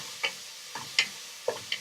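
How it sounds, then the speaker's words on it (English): A spoon stirring simmering Japanese-style curry in a pot, with four or five soft, separate scraping knocks that come in an uneven rhythm and sound close and faint. "Keep simmering, stirring"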